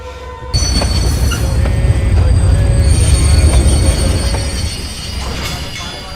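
A passenger train running near Jhunjhunu station in Rajasthan fills the scene with a loud, steady rolling rumble, with thin metallic wheel squeals and whining tones riding above it. The sound builds, then eases slightly toward the end.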